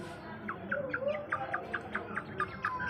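Silkie chicken chicks cheeping in a rapid, regular run of high-pitched peeps, close by, over a soft background hum, with no one speaking.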